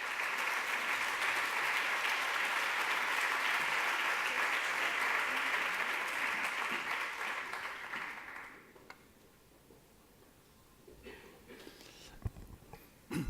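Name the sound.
audience applause welcoming Toni Codina to the stage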